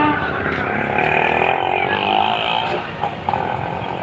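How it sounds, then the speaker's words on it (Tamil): A vehicle drives past close by at Srirangam near the Raja Gopuram tower, its engine rattling and whirring loudly before fading, with faint voices in the background. "அச்சோ எனக்கு பிடிச்ச வண்டி போகுது"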